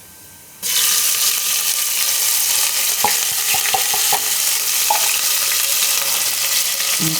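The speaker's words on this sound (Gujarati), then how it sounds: "તો ઘીમાં આપણે પહેલાં નાખીશું આખું જીરું" Whole cumin seeds sizzle in hot ghee, a loud, steady, bright frying hiss that bursts in after a moment of quiet and holds through, with a few light clicks and taps over it.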